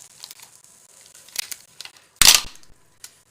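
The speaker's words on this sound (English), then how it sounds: "Sorry, I'm getting tape." Tape being handled and ripped off in a quiet kitchen: soft crinkling and short peeling noises, then one sharp, loud tearing burst near the end and a small click after.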